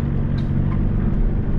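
A car drives through the streets of Mecca in the early evening, giving a steady low rumble of engine and road noise from inside. No one speaks.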